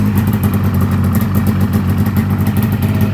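A 1996 Polaris XCR 440 EFI snowmobile engine runs loud and close after a pull-cord start, a steady rough two-stroke idle with a dense clattering buzz and no voices.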